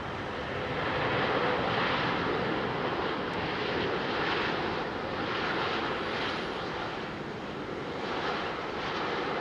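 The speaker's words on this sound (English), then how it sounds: "That's Branson's jet, innit?" A jet aircraft passes near Heathrow, its engine roar a loud, continuous broadband wash that holds steady and swells gently for several seconds, with no voices over it.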